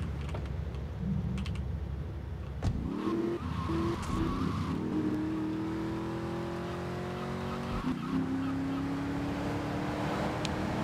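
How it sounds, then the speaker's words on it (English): Cars in the modded Grand Theft Auto 3 game swerve, with engines revving and tires squealing in rising skids, over a steady game background, loud and close, with no talk. "So cars in this game do swerve and hit you, right? Purposefully?"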